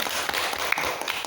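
A classroom group claps hands together, a short burst of quick overlapping taps up close with a few sharper accents, no talking.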